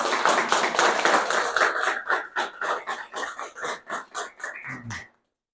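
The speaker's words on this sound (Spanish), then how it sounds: "con un fuerte aplauso" A conference audience applauds to welcome a doctor as the speaker, a quick rhythmic burst of clapping that gradually thins into separate claps before stopping abruptly.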